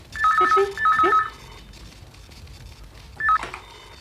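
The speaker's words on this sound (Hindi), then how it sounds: "अनु, विकी का फोन" An office telephone rings in short electronic bursts, two rings close together and a third after a pause, clear and near against a quiet room.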